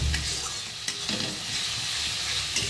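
Ginger and garlic paste sautés in hot oil with a constant close sizzle, and a few sharp scrapes and taps of a spoon stirring the pan.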